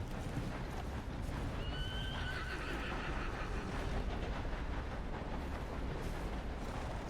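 A horse in the Red Dead Redemption 2 video game gives a clear, drawn-out whinny over a constant low rumble of ambient noise, with no talking.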